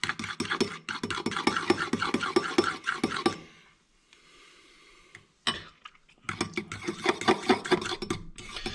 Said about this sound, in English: I'm going to stir it around and taste it.